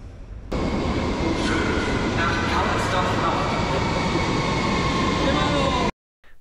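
A Berlin metro train rides along with a steady, loud rumbling roar and track noise that hold unbroken, then cut off abruptly near the end.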